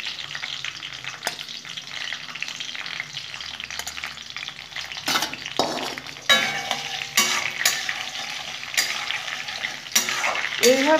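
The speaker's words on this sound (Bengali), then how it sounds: "রসুনগুলো দিয়ে দেবো, একটু ভাজা ভাজা করে নেবো।" Crushed garlic fries in oil, a steady close sizzle broken by sharp scraping and stirring strokes of a spatula against the pan, growing busier toward the end.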